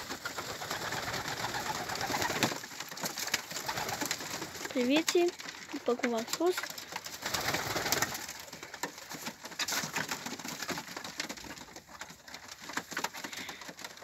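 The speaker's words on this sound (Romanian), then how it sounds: "acum vor coborî toți porumbeii să mănânce" Pigeons coo softly a few times amid rustling and scratching, with a person speaking briefly nearby.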